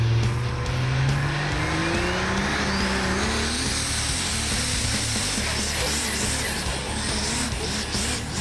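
Diesel truck pulling a sled at a truck pull: loud, roaring engine climbing in pitch through the gears, then a dense, rough, bouncing rumble that continues at high volume.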